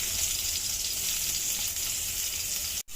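Chopped onions sizzle loudly in hot oil in a cooking pot, a steady bright frying hiss with no talk, ending in a brief sharp cut.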